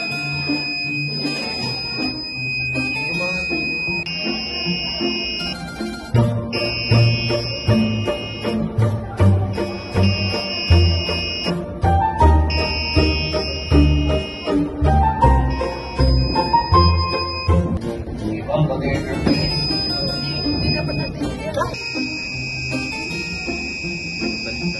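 A small Arduino-driven piezo buzzer beeps out a melody in short steady tones with a thin electronic ring, over a busy background of music or room sound throughout.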